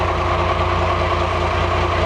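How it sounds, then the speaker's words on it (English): A Cummins 6BTA 370 diesel engine runs at a steady idle, a continuous low, even rumble with no talking over it. "We'll fire the motor up."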